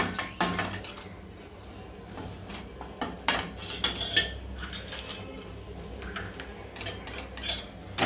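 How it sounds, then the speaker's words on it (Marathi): Butter and flour being roasted and stirred together in a pan over a low flame, a spoon scraping and tapping the pan in steady close strokes over a faint background hum, with no voices. "पिठाला आणि बटरला चांगलं भाजून घ्यायचं आहे, एकजीव करायचं आहे।"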